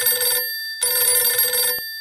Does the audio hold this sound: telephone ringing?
yes